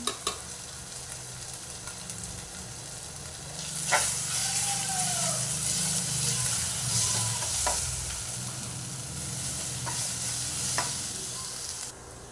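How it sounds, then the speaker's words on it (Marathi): Egg curry masala with ginger-garlic paste, spices and salt sautés in a pan, producing a continuous loud sizzle with stirring scrapes and a few sharper clatters. "चवीनुसार मीठ चांगलं परतून घेऊ आपण"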